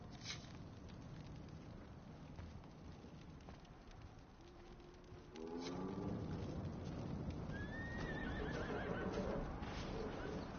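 A horse neighs in a fantasy video game set in Ferelden, a chestnut purebred Ferelden Forder at a stable, whinnying partway through over steady rain-like ambience with faint hoof clip-clop.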